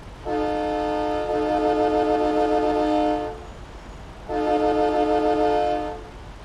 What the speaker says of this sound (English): There's a train horn under the cab.